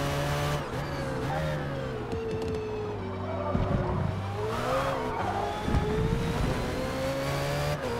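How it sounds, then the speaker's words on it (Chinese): A race car in a racing video game slides with its rear tyres losing grip through a high-speed corner, its engine droning steadily while tyre squeal rises and falls, with no voices. "后轮有一些侧滑，控一下油门，稳住车辆"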